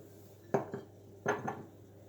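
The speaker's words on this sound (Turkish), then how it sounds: "Güzel bir şekilde eriklerimizi kavanozumuza dolduruyoruz" Plums being packed into a glass jar for quick plum pickle, giving two brief clusters of clinks and knocks against the glass, fairly close and quiet, with no talk.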